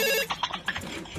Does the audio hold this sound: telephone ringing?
yes